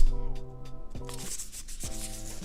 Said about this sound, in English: Do you like that shaft polishing sound?